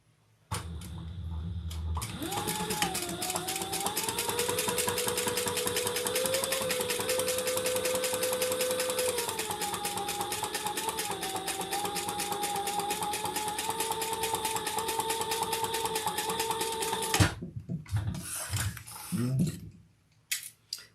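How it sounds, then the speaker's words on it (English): A sewing machine stitches leather in a steady, continuous mechanical run with fine rapid clicking, starting after a short pause and stopping abruptly near the end, followed by a few handling noises. "All right, let's sew that on."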